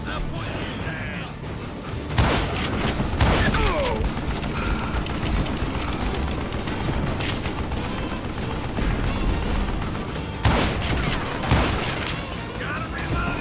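Gunshots in the Western video game Call of Juarez Gunslinger come in sharp bursts and scattered single reports over game sound, with a heavy volley near the start and more near the end.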